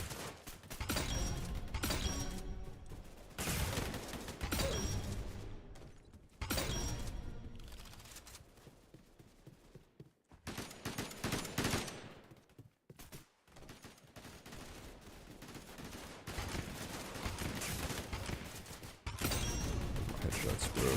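Rapid bursts of video game gunfire in a shooting game, sustained and dense across the stretch with brief lulls, loud and close with layered impacts and mechanical clatter.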